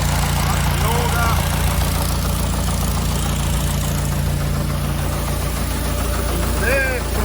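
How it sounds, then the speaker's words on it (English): Engine running an auger that loads urea fertiliser, a loud constant low mechanical drone with faint intermittent chirps, and someone talking briefly over it. "that's the urea going in. Over there, that's the auger."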